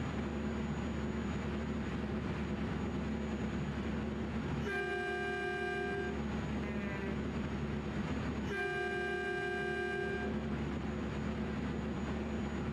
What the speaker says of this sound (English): One thing I like about this MAN is the horns sound like a bloody train.